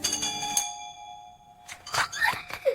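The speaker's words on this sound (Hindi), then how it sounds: "अचानक दरवाजे की घंटी बजी।" A doorbell chimes with a clear two-tone ring that rings out and fades, followed by a short burst of brighter, clattering sounds.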